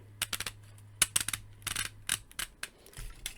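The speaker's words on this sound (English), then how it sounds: "his arms will rotate, and it's nice and ratcheted. You can hear it clicking" A Transformers Studio Series Dinobot Slug figure's ratcheted arm joints are worked by hand, producing quick, close, crisp plastic clicks in bursts and irregular runs, some clustered tightly and some spaced apart.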